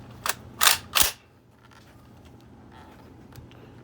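Three sharp metallic clacks of a CETME rifle being cocked and dry fired, close and loud within the first second, then a quiet room with faint handling noise and one soft click.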